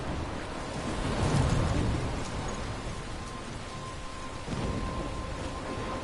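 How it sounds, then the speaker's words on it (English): A storm rumbles in the video game Life Is Strange, with steady rain hiss and low thunder swelling near the start and again toward the end, loud and enveloping with no voices. "I'm trapped in a storm?"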